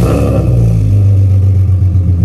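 An Infiniti G37's VQ engine fitted with new headers rumbles loudly at close range, a steady deep idle with a slight throaty rasp and no voices.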